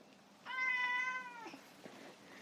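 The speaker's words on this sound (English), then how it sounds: "I've been trying to ignore him when he's meowing, which is hard." A house cat gives one clear, drawn-out meow close by, standing out over a low room hum, followed by a couple of faint clicks.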